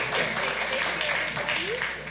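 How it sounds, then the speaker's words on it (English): Audience applause at a Santa Ana city council meeting, a steady wash of clapping that runs under nearby speech and faint voices throughout. "Please give him a round of applause."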